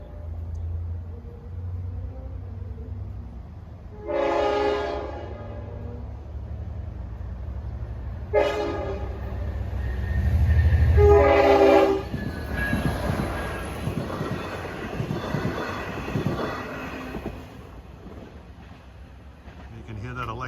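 A Long Island Rail Road train's Nathan K5LL horn blasts in three separate bursts, the last one longer, followed by the heavy rumble and clatter of the passing train.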